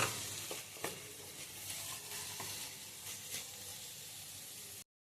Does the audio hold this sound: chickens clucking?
no